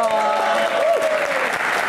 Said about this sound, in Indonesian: kita berikan tepuk tangan paling meriah untuk rekan-rekan mahasiswa yang ada di studio